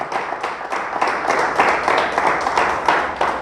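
A church congregation claps for God during a sermon by Pastor Heriberto García. The applause is steady and rhythmic, with a fast, dense crowd patter throughout.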